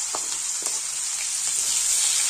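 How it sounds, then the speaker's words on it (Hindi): Chopped onions and green chilies fry with cumin seeds in a pan, giving a steady, bright sizzle throughout with a few soft stirring knocks near the mic. "और प्याज को सुनहरा होने तक पकने देंगे।"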